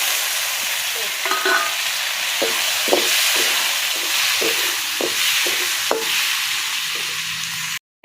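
Tomatoes and other vegetables sauté in a hot pan for a country-chicken curry. A steady sizzle runs throughout, broken by a series of sharp scraping stirs, loud and close, with no talk.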